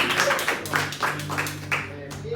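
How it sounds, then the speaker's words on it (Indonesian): Clapping from an audience seated at a waste-management talk, rhythmic and fairly close, mixed with voices talking over it for a couple of seconds. "Tepuk tangan untuk kita semua."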